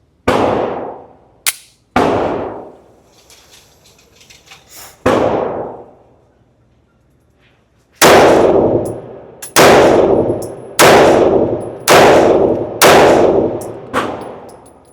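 Shots from a Shadow Systems CR920XP pistol firing 115-grain ammunition outdoors: sharp, loud cracks, each ringing out with a metallic decay, a few spaced early, then five rapid evenly paced shots in a row, with no talking.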